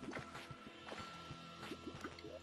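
Water draining in a tunnel in the video game Terraria: a quiet string of soft liquid drips and squishy gurgles in an uneven rhythm, heard alone with no talking.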